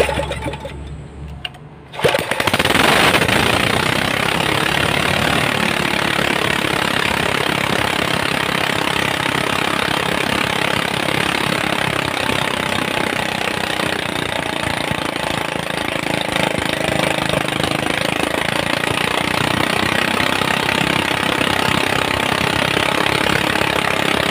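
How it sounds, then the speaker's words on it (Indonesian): A small generator engine catches after a brief rattle and settles into a loud, steady, droning run that continues without pause. "Sekarang kita akan cek hidupkan apakah mesin ini bisa hidup."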